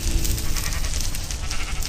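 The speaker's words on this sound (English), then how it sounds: "Stupid sheep." A Minecraft sheep bleats loudly and close over a dense, steady background din, filling the whole short moment.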